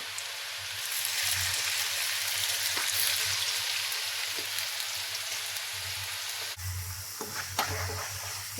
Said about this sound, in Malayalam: ഈ കിഴങ്ങ് കുറേശ്ശെ ഇങ്ങനെ നിരത്തി ഇട്ട് കൊടുക്കണേ പെട്ടെന്ന് ഫ്രൈ ആയി വരും